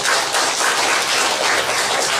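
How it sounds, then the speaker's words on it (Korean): Church congregation applauding in encouragement for students, a dense, steady wash of many hands clapping throughout, loud and close with no pauses. "우리 한번 학생들을 위해서 격려의 박수 한번"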